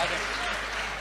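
Audience applause at a poetry recital fills a brief moment, a dense, even clatter of many hands clapping throughout.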